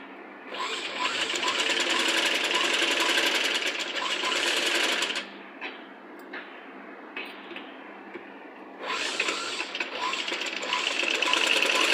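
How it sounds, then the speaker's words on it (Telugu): A sewing machine double-stitches the side seam of a child's Punjabi dress top, running in a loud steady whir for several seconds, pausing briefly with a faint hum, then starting up again. "ఇలా డబుల్ స్టిచ్ చేసేసి ఈ సైడ్ కూడా ఇలాగే డబుల్ స్టిచ్ వేయండి"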